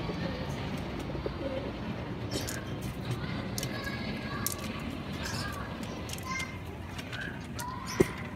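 A blue check pigeon pecks and eats, with soft tapping and occasional cooing close by, while someone talks over it and a sharp click stands out near the end.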